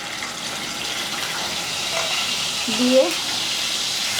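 Onion paste sizzling in hot oil with a bay leaf while a fish curry is prepared; a steady, soft frying hiss runs throughout, with a short bit of talk over it.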